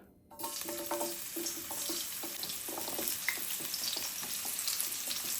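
Chickpeas fry in hot oil in a pan, giving a dense, steady sizzle that runs continuously on its own without any voices.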